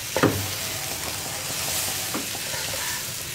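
Chicken pieces are stirred in a hot pan while making a spicy chicken roast, with a continuous sizzle. One clear scrape of the spatula near the start and a softer one later sit over the steady frying hiss.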